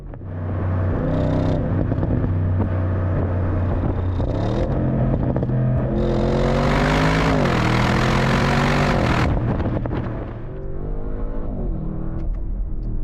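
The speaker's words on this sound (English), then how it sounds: "So quick, sounds so good. That exhaust note, let's talk about the exhaust." An Audi RS6 GT wagon's deep exhaust rumbles loudly and continuously, swelling as the engine revs up and down, with a rising roar mid-way before settling back.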